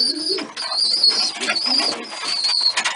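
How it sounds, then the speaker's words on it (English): White pigeons cooing nearby in an enclosure, several soft repeated low coos overlapping, with sharper high chirps and light rustling. "I've got these white pigeons running around in here"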